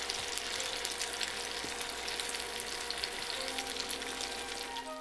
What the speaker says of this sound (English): In goes a bit of oil, and add the egg